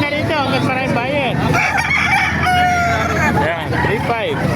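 Several roosters crow loudly and repeatedly in overlapping calls at a busy chicken market in Calumpit, Bulacan, with clucking fowl and crowd noise mixed in.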